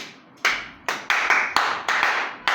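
A church congregation applauding in a few quick separate bursts of claps, close and fairly loud, each burst fading before the next.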